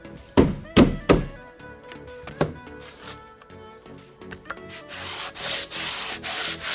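Brake pads being roughed up with sandpaper, opening with several hard knocks and thunks, then a steady scraping and rubbing that grows louder and hissier toward the end.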